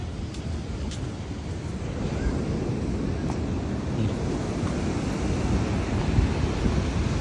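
Ocean waves wash steadily onto a beach in Cancún, a continuous broadband surf roar with wind noise buffeting the microphone and no clear breaks between swells.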